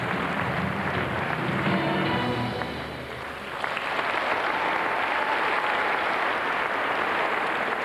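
Audience applause rings out after a women's floor gymnastics routine at a 2004 European championship in Cottbus, steady dense clapping from a large hall that briefly dips in the middle before swelling back to full strength.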